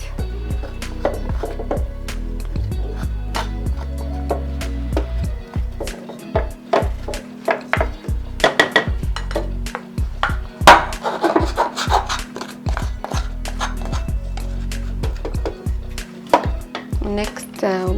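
Flour and other dry ingredients for a chocolate cake are mixed in a bowl, giving irregular knocks, clinks and scrapes of utensil against dish, close and fairly loud.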